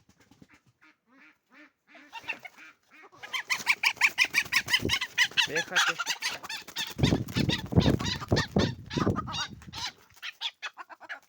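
Chickens and a rooster cluck and squawk in a Ukrainian yard, starting with a few sparse calls and building into a loud, dense burst of flapping and cackling, with a short spoken word near the start.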